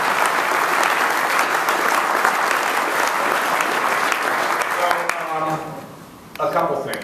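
An audience applauds during a political speech, with dense sustained clapping that fades toward the end before a voice briefly speaks.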